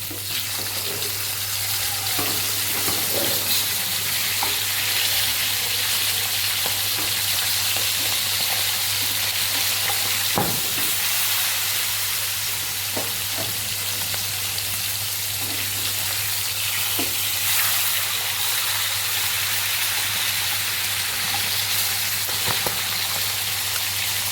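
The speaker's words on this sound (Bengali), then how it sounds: "এবারে আমি মাছগুলো উল্টে দিই" Fish frying in hot oil as the pieces are flipped, a steady loud sizzle throughout with occasional soft knocks and scrapes of a utensil, close with no voices.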